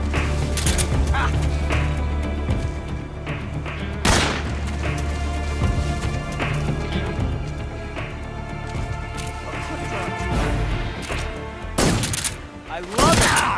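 Gunfire and explosions from the video game Metal Gear Solid 3 crackle in loud bursts over a droning game soundtrack, with sharp booms near the start, middle and end and in-game voices shouting.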